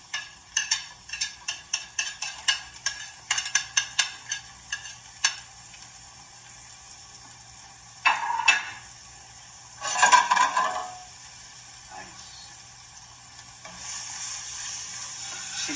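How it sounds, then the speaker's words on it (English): Onions and garlic hit a hot pan and sizzle after a run of sharp rhythmic clicks and taps of cooking utensils, with later bursts of louder frying as the pan is stirred, close and fairly quiet, with no talking. "right away put some of those onions and garlic in there"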